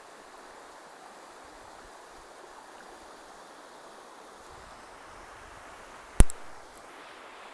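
A river flows steadily outdoors, a soft continuous wash of water heard alone, with one sharp brief knock or thump near the end.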